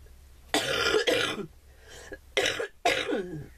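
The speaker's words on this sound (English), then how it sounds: "Oh, I hope I don't start coughing." Several harsh coughs in close succession, loud and near, in a few separated bursts with brief pauses between them, from a person who has been sick.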